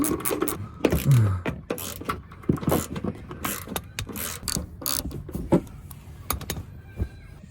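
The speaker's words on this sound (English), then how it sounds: "It's held on, it's a clip, so you put a flathead through it and pop it out" A flathead screwdriver pries plastic fender clips loose on a Nissan 350Z, with a rapid series of sharp clicks, snaps and scraping rattles, close and uneven, scattered across several seconds.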